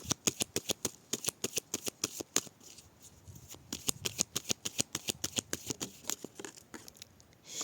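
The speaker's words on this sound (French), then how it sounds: "Allez, je dis que je fais une coupe." A deck of tarot cards being shuffled and cut by hand, giving rapid, crisp riffling and flicking bursts in quick rhythmic succession, close up and fairly quiet, with no talking.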